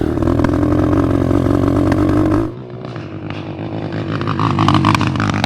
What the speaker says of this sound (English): let's go for a test ride and see if this bike even runs. It runs so bad.